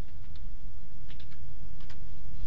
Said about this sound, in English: all you need to do is type in the following command: sudo apt-get install apache2-utils